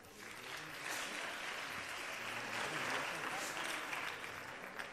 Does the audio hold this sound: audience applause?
yes